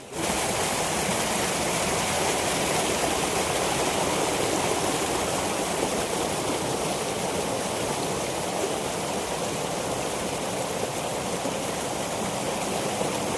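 Peeled forest fruits being washed in water, a steady rushing, splashing wash that runs continuously and loudly from start to finish with no voices.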